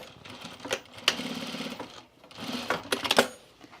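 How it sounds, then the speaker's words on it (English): Sewing machine stitching down trouser fabric inside the seam allowance, running in two close, loud bursts of rapid mechanical chatter separated by a brief pause. "we're just going to stitch those down like 1/4 of an inch inside the seam allowance there"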